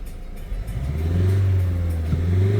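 A 2017 Renault Megane engine rises from a low idle into a deep, steady rev, its thick, bassy hum played through the cabin speakers by sound design, sustained without any talking.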